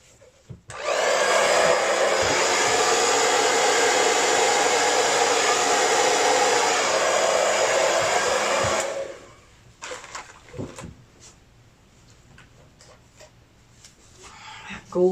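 A hair dryer blows acrylic paint across a canvas in a Dutch pour, a loud steady whoosh running about eight seconds before cutting off, followed by quiet handling sounds.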